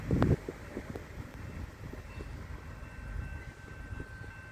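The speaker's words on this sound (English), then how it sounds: "The double Doodlebug DMU sprinters go past and they're pulling up to Tyabb station." A double Doodlebug DMU sprinter train passes while pulling up to Tyabb station on the Stony Point line. It makes a steady low rumble mixed with wind buffeting, with a brief heavier thump at the start.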